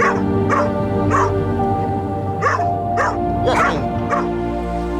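Several trainee assistance dogs bark in short, repeated bursts of bow-wows and yips, loud and close, with a low steady hum running underneath.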